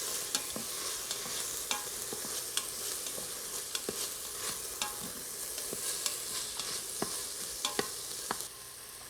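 Black bean chili is stirred in a pot: a utensil ticks and scrapes against the sides in a loose steady rhythm over a continuous sizzle, close and fairly quiet, with no talking.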